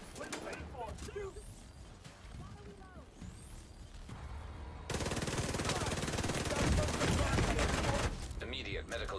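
Gunfire in the video game The Division 2: a stretch of rapid automatic bursts and scattered shots that thickens into a dense, sustained fusillade in the second half, loud and continuous, with voices and game effects mixed in.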